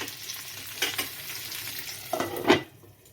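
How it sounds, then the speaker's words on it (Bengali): Chicken mince sizzles in a pan for a chicken cheese paratha while a spatula stirs it now and then, giving a few scraping strokes over a soft, steady fry. "আমি মাঝে মধ্যে এটাকে একটু ঘুরিয়ে ঘুরিয়ে দেবো যাতে লেগে না যায়।"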